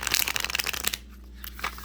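Tarot cards being shuffled by hand, a quick riffling flutter of close, crisp card sounds that stops abruptly midway, followed by a couple of faint taps.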